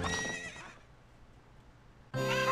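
Horse neighing in the video game Ocarina of Time: a loud, harmonic whinny opens the clip and fades after about a second, then a second loud neigh bursts in near the end, with no talking.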